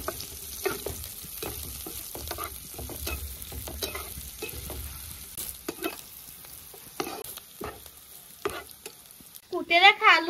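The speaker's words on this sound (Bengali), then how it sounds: "দিয়ে দেবো এখন তেল। পেঁয়াজ মরিচ কুচি দিয়ে দিচ্ছি।" Chopped onion and green chili fry in hot oil, a loud crackling sizzle punctuated by frequent scraping stirs of a spatula against the pan, with a sharper metallic scrape near the end.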